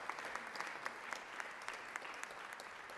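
A room full of people claps in the Georgia Senate chamber, with continuous, even applause and scattered sharper claps, heard from a moderate distance without any talking.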